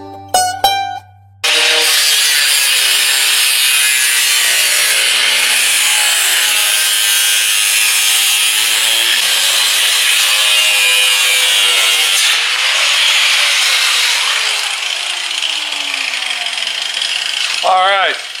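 A rusted car body section is cut out for rust repair with a loud, continuous abrasive cutting and grinding sound lasting most of the clip, with brief tool starts at the beginning and end.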